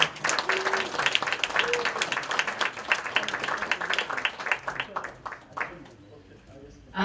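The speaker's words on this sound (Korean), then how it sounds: "여러분 박수 부탁드립니다" An audience clapping at a ceremony commemorating the Gwangju uprising, a brisk round of applause that thins out and fades after about five seconds, with a speaking voice over it.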